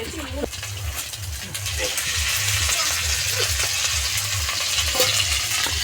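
Garlic paste sizzles in a pan with hatchery chicken meat, a steady frying hiss with rhythmic low scraping strokes of stirring repeating about every half second, while a voice talks intermittently over it.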